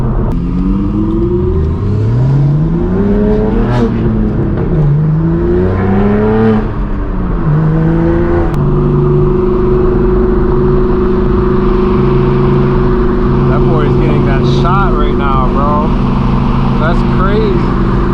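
A straight-piped BMW M4 G82 accelerates on an open highway, its loud exhaust rising through gear pulls in sweeping climbs before settling into a sustained drone, with a voice talking over it.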